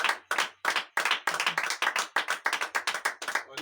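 A church congregation claps together in praise of the Lord, with steady, rhythmic hand claps close and loud throughout and no talking.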